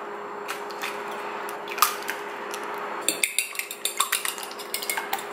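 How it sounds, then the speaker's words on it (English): Two eggs being whisked with a fork in a bowl, a rapid run of light clinks and taps against the bowl that grows sharper and more rhythmic toward the end, close and alone. "we're gonna whisk 2 eggs in a bowl."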